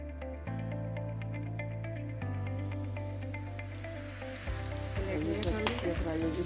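Chapli kebabs made with rice fry in hot oil, giving a steady, close sizzle with bubbling crackle that builds louder near the end, with no talk over it.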